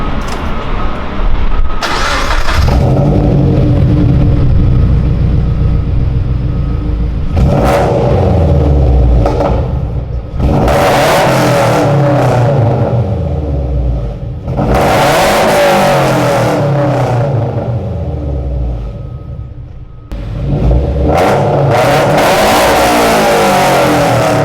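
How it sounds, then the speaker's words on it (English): A Toyota 86/FRS/BRZ with an aftermarket exhaust cranks to life, then revs hard in loud, close bursts, rising and falling roughly every four to five seconds over a steady idle. "starting the car and showing you what it sounds like"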